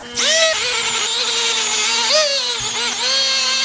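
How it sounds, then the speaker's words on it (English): A Dremel rotary tool fitted with a small wire brush scrubs the top of a Honda C200 motorcycle engine part, giving a steady high-pitched whine that dips in pitch as it bears into the metal, running continuously with no talk. "I will get the Dremel and wire brush, this guy's little brush, and I'll clean up that top bit"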